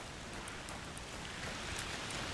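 Rain falling steadily in the video game A Plague Tale: Requiem, a dense even hiss of drops on surfaces with no break and no talk over it.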